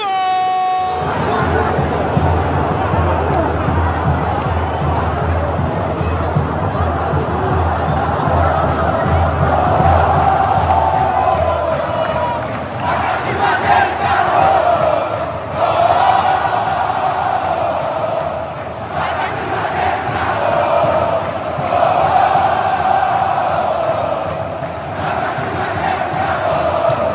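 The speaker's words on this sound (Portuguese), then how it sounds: "Ação espetacular da torcida" A packed Mineirão stadium crowd roars after an Atlético-MG goal against Grêmio, a loud sustained wall of cheering and chanting that swells in waves, with voices over it.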